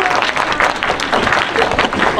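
Audience applause fills a Korean film screening's closing moment with the director and cast present, dense steady clapping from a crowd lasting a couple of seconds, fairly loud and close.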